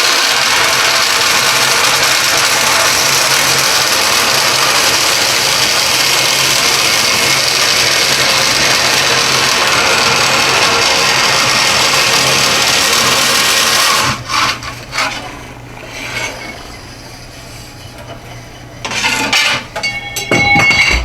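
A saw cuts steadily through sheet aluminum for about fourteen seconds with a harsh, rasping drone, then stops, leaving scattered clatter and handling noises.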